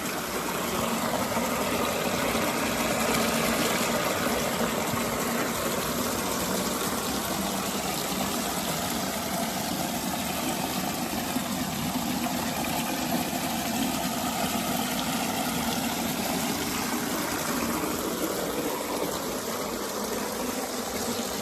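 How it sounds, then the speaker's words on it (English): An outdoor kitchen waterfall in St. James, Missouri runs with its pump, giving a steady, loud, unbroken rush of flowing water over a low mechanical hum, with no voices. "it takes a minute for it to power up, but then you're able to very slickly get the waterfall going."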